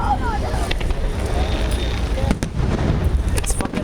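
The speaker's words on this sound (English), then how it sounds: "I'm in downtown Minneapolis making video of fireworks during the Aquatennial event." Fireworks burst during the Minneapolis Aquatennial downtown, a steady rumble of distant booms and crackling pops layered over crowd murmur, with a few sharper, louder reports standing out.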